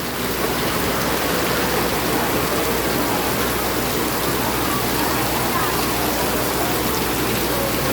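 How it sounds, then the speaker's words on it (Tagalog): Heavy rain pours down in a dense, unbroken hiss that stays loud and even throughout. "Grabe ang ulan."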